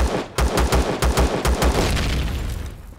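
A favorite gun in Empyrion Galactic Survival fires a rapid burst of about ten loud, close shots in steady rhythm, the last one ringing out as it fades.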